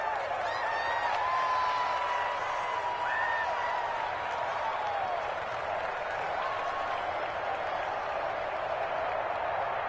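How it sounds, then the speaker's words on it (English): A stadium crowd in a football video game cheers and claps steadily ahead of a big third down, a dense, even roar with a commentator's voice faintly threaded through. "the crowd getting into it as we come up on a big 3rd down"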